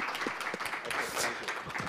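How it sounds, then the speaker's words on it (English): A summit audience applauds Chairman Lee, with dense, steady clapping sustained through the moment. "Chairman Lee, let's give him a wonderful round of applause"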